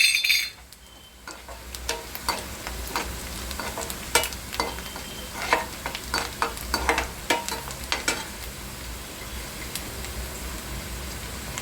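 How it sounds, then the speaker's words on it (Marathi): Onion and curry leaves fry in a pan over a low, steady sizzle while a spoon scrapes and taps against the metal in irregular close strokes, with no voice. "आता हा कांदा भाजत आहे ते कांदा भाजल्यानंतर आपण ह्याच्यामध्ये कढीपत्ता टाकत आहे"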